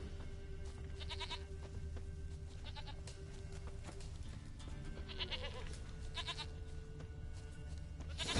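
Video game goat in The Witcher 3 gives several short, nasal bleats, spaced apart, fairly faint against a steady ambient game soundscape.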